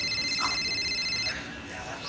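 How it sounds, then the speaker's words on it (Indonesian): An electronic telephone ring trills through a short indoor scene of an Indonesian drama, its steady high warbling tone lasting about a second before fading beneath room ambience. "Sepertinya ada telepon ini."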